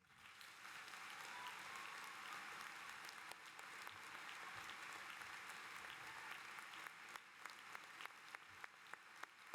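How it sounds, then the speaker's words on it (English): A crowd applauds steadily at a college commencement ceremony, a dense wash of clapping that holds for several seconds, with a few louder individual claps near the end. "Anne and Carol and Daryl and the Campbells another round of applause"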